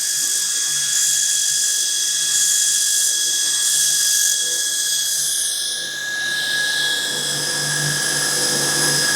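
Metal stock is deburred by hand beside an Okuma CNC machine, a steady scraping edge cut heard close, partly masked by the machine's continuous high whine and hum.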